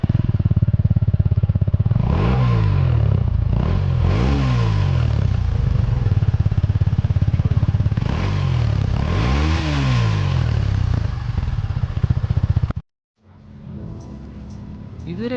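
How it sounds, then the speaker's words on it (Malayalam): A Suzuki Gixxer SF 250 motorcycle's exhaust note sounds loud and close, revving up sharply four times over a steady idle before cutting off abruptly, then resuming quietly. "നമുക്ക് ഈ പുതിയ ജിക്സർ SF250യുടെ എക്സോസ്റ്റ് നോട്ട് ഒന്ന് കിട്ടുമോ?"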